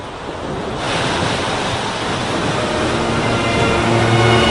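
Ocean waves at the Cliffs of Moher in Ireland roar steadily, a loud broadband surf wash that swells after the first second and stays constant, mixed with wind buffeting the microphone.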